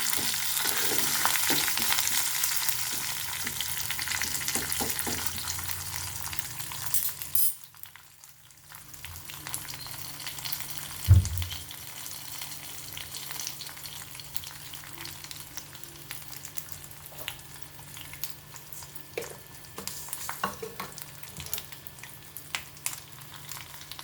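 Dried red chillies, curry leaves and garlic frying in hot oil in a pan, a continuous crackling sizzle with occasional utensil clinks and stirring, dipping briefly quiet midway before resuming, no talking.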